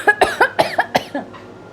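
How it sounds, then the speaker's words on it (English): A rapid burst of about six dry coughs in quick succession, close and loud, tapering off into a soft breath. "I still have a cough"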